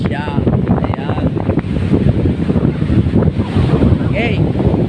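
Strong wind and breaking surf at Bagasbas beach in Daet, Camarines Norte, form a loud, constant, gusting roar that fills the whole stretch, with a voice talking over it.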